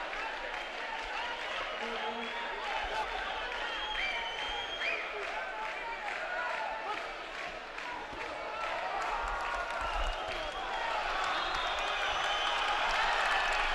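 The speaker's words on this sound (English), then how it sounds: "now you hear it from the crowd" Crowd noise at a 2011 AIBA World heavyweight boxing quarterfinal, a broad rising roar of cheering and clapping from the arena, with a commentator talking over it.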